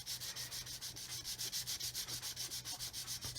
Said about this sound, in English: I'm just going to use the weight of the sponge with no pressure at all, and I'm just going to see if I can sand this away